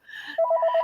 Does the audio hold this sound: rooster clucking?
no